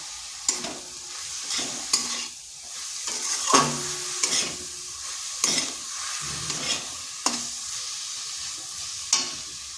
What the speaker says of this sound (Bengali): সমস্ত উপকরণ ভালোভাবে মিশিয়ে নিচ্ছি।